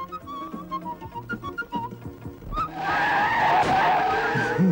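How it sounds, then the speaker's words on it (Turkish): Tires skid and squeal loudly on a road for nearly two seconds, following a stretch of clipped, rhythmic musical or mechanical tones, a truck losing grip just before a crash in an old Turkish comedy film. "Kamyon çarpacak."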